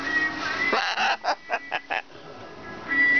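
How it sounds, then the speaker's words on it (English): A chicken clucks in a short series of close, distinct bursts between quieter moments. "Never seen a bird throw out so much food."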